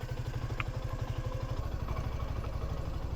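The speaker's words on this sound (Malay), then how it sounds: "saya akan bawa motor ni" Suzuki V-Strom 250 motorcycle being ridden, its engine giving a steady, rapid low-pitched pulsing drone at constant speed, close and moderately loud with no talking.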